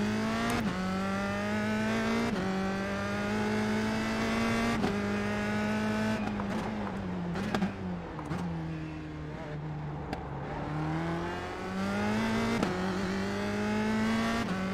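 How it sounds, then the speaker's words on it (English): Single-seater race car engine in a racing video game, a slow Formula 3-style car, revving hard through repeated upshifts with rising whine, brief drops between gears, loud and close throughout. "This car sounds amazing."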